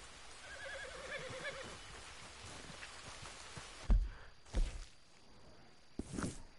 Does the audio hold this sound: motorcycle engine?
no